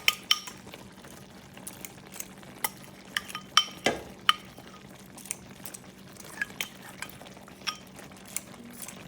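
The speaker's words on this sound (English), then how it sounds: "just gonna drop that ricotta all over the top." Ricotta spooned onto skillet lasagna: a faint simmering bubble under a series of light spoon and utensil taps and scrapes against the pan, scattered clicks with one louder knock midway, no talking.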